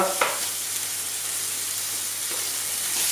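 Burger bread slice sizzling steadily in a hot pan, a close, continuous frying hiss with a brief spatter near the start and no talk.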